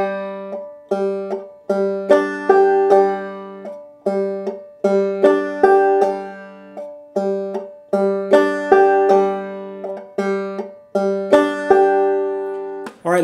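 Clawhammer banjo played alone at moderate tempo, a steady bouncing pattern of plucked notes and brushed strums with the thumb striking the open third string again, clear and close with short pauses between phrases.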